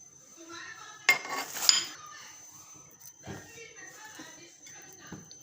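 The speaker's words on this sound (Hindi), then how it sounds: "उसके बाद हम इसके अंदर धनिया, पुदीना, हरी मिर्चें और प्याज शामिल कर देंगे।" Pakora batter with onions, coriander, mint and green chillies mixed in a bowl, a few spoon clinks and scrapes against the bowl, quiet and close, with soft talk nearby.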